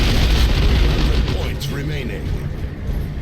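Cannon fire from a secret Mek Boy cannon in a Warhammer strategy video game, a deep booming explosion up front that rumbles and fades, under a commentator's speech.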